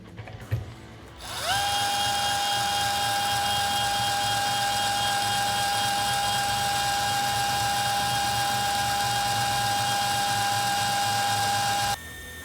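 A power drill spins a Pfister faucet installation tool, giving a steady, loud high-pitched whine that ramps up after a short start and holds for about ten seconds before cutting off.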